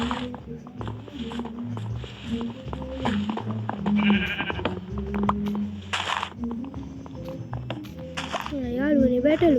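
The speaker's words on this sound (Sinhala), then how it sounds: "යාළුවනේ බැටළුවේ" A sheep in a video game bleats a few times, quite faint under gameplay sounds and a person talking over them.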